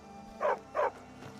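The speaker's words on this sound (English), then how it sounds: "Good dog." A dog in the video game Skyrim barks twice in quick succession, two clear mid-distance woofs over a low steady game background, with no talk.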